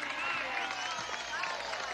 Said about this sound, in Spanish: Yo quiero que demos un fuerte aplauso a la diputada de la dignidad de Caracas, Tania Díaz.